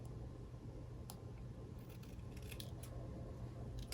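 Scissors snipping patterned paper while trimming pieces for an embossed birdhouse pendant card, a few faint sharp cuts spread over a steady low hum in a quiet craft room, with no talking.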